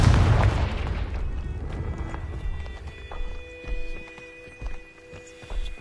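The Confringo explosion spell goes off in a wizard video game, a heavy rumbling blast at the start that decays into low thuds and scattered impacts over quiet music.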